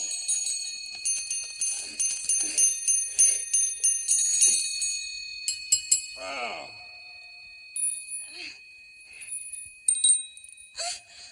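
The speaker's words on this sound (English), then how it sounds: "ring your bell" Bright, ringing metallic bell tones chime repeatedly in a quick series, then taper into sparser rings, with a brief vocal exclamation mixed in, from the puppet series Fraggle Rock.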